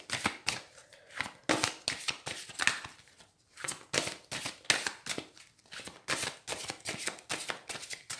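Oracle of love tarot-style cards being shuffled up close, a rapid series of crisp riffling bursts and soft slaps repeating in an uneven rhythm, with no talk.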